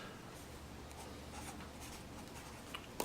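Pen scratching out PEMDAS by hand on paper during a math lesson, soft continuous strokes with a few brief taps, quiet and close, with no talk.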